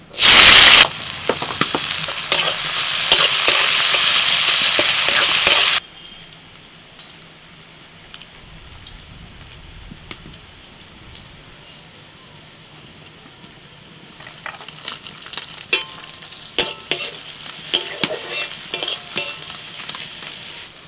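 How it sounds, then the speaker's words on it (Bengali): Chopped onion hits hot cooking oil that has just been used for frying whole garlic, giving a loud, close sizzle for about five seconds, then a quieter, steady crackle with occasional stirring scrapes. "ওই তেলের মধ্যে দিয়ে দিচ্ছি পেঁয়াজ কুচি।"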